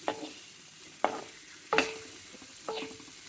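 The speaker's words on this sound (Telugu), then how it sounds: "ఇందులో కొద్దిగా వేయించుకోవాలన్నమాట బాగా" Bell pepper fries in a pan for chutney under a soft sizzle, as a spatula strikes and scrapes the pan four times in separate, spaced strokes.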